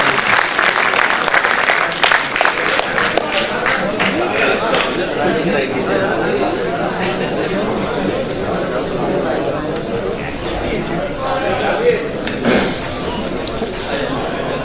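An audience at a youth mushaira gives sustained applause to welcome a poet from Bhusawal. A dense wash of clapping with crowd chatter underneath gradually thins toward the end.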